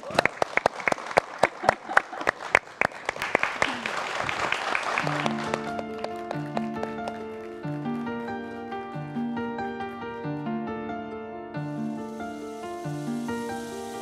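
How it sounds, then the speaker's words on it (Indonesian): Audience applause for an Indonesian singer fills the first five seconds with dense, loud clapping, then fades as piano-backed music begins and continues to the end. "Kita kasih tepuk tangan"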